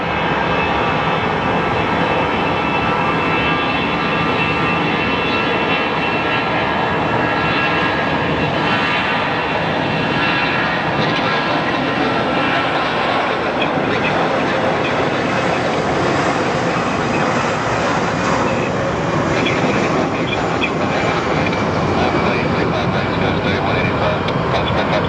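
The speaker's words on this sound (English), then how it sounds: "It's American Airlines 1536 departing for Santa Barbara." An American Airlines jet departs a busy airport in a loud, continuous engine roar that holds steady for the whole span, broadband and dense with no pauses.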